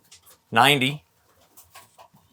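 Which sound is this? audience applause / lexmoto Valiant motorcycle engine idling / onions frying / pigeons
pigeons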